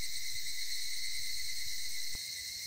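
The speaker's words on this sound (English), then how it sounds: "Only the cry of the cicadas remained, annoyingly loud" Cicadas shrill in a steady, loud, continuous drone from the Higurashi When They Cry visual novel, holding unbroken throughout; a single faint click sounds near the end.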